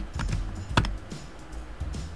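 A few clicks of keys on a computer keyboard, close and crisp, with one sharper press standing out among lighter taps.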